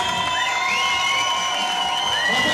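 A crowd at a dance battle cheers and whoops, a continuous loud wash of shouting and applause with high excited voices rising over it.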